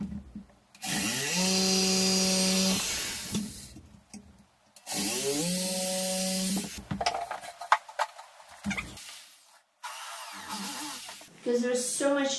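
Power tool drilling into a wooden dowel for a home-built stall bar, running in two long whining bursts with a steady pitch, separated by pauses, clattering handling and brief shorter revs near the end.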